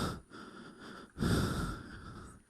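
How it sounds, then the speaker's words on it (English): Heavy, nervous breathing sounds close to the mic, a few loud snorting inhales and exhales in uneven rhythm, with a strong rush of breath midway through. "Sorry about my breathing."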